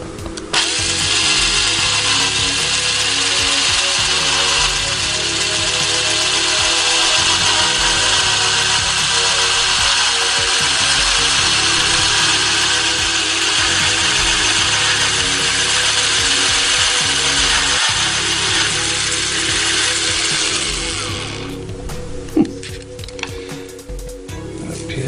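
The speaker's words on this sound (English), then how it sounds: "So in theory, I should just need to drill this." A loud power drill whirs steadily for about twenty seconds, drilling through wood up close, then stops, leaving a few clunks and rattles.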